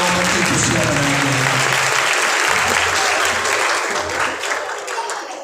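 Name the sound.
congregation applauding in church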